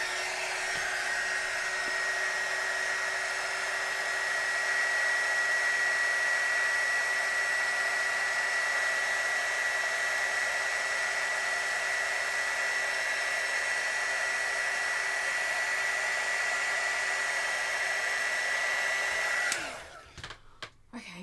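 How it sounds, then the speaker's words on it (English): A hair dryer blows steadily and loudly for about twenty seconds with a constant whine, used to dry acrylic paint on an art project, then cuts off abruptly, leaving a few faint clicks and knocks. "I might actually need to use the hairdryer."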